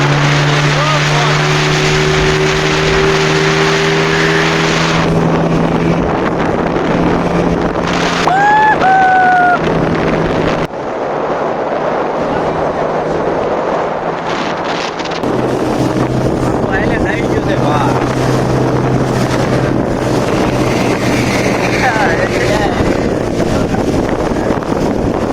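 A motorboat crosses the sea off Shivrajpur beach near Dwarka, its loud steady engine drone continuous under heavy wind buffeting on the microphone and rushing water, with faint voices in the background.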